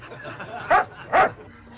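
In a film scene, a dog gives two sharp, close barks about half a second apart over a low background, while a voice speaks briefly nearby.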